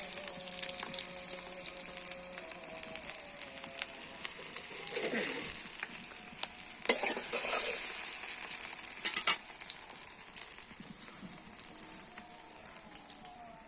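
Onions hiss and crackle in hot oil in a village kitchen, a steady close frying sizzle with a few sharper pops and clatters along the way.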